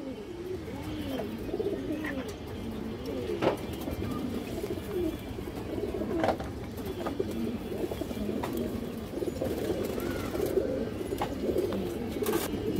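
Pigeons in a loft coo continuously in soft, overlapping low rolling calls, a steady murmur of several birds with occasional wing flutters and faint clicks, no talk.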